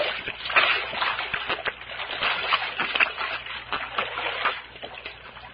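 Spring water in a creek splashes and sloshes close by as someone scoops it up to drink, with irregular wet splatters and dribbles running continuously, fairly loud and unaccompanied by speech.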